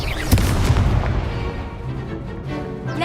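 A Confringo spell explodes in the Hogwarts Legacy video game, a sharp booming blast followed by a rumbling, crackling decay and smaller bursts.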